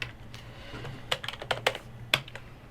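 Keys clatter on a computer keyboard as a password is typed, a quiet irregular run of close clicks and taps in an otherwise still room.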